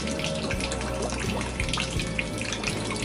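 Water running from the outlet of a small mini water pump in a garden plot, a low steady trickle and splash with soft bubbling, fairly faint and continuous.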